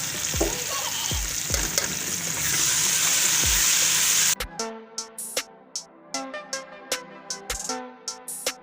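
Garlic-ginger paste and green chili paste frying in a hot pan, first a loud, dense sizzle with stirring knocks, then abruptly quieter crackling and rhythmic scraping strokes of a spoon against the pan, close by.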